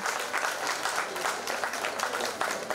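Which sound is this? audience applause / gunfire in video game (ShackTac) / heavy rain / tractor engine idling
audience applause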